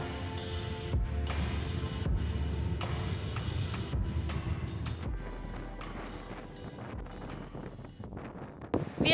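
Strong wind blusters across the microphone at the seaside in Sinop, a port on Turkey's Black Sea coast, with continuous rumbling gusts and scattered bumps and rustles nearby.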